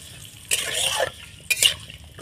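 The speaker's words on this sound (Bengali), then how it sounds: "পেঁপে দিয়ে দিলাম, দিয়ে আমি ভালোভাবে ভেজে নেব" Papaya pieces frying in oil for Bengali shukto, with two bursts of stirring and sizzling in the pan separated by a quieter gap, close and moderately loud.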